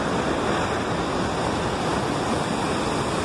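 The waterfall at Cachoeira do Urubu in Piauí, a cascade pouring over rocks, roars as a constant dense wash of broadband noise, steady and close, with no voices heard.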